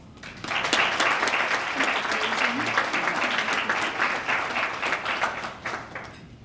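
A room full of people applauds scholarship students at a Brockton Rotary Club awards event, with steady, dense clapping that holds loud and even for several seconds, free of any talk.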